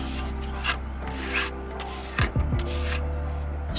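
A small trowel works mortar onto a cracked Bath stone lintel during masonry repair, making short scraping and rubbing strokes with a few sharper scrapes near the end, close and fairly quiet with no speech.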